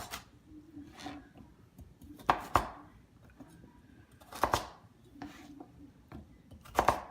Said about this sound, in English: just cutting up these potatoes. They're just a rough chop.